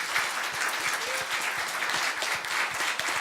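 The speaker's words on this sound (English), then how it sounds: "let's give our panelists a round of applause" An audience applauds panelists at the close of a public forum, a sustained crowd clapping at moderate level with distinct individual claps audible through the wash.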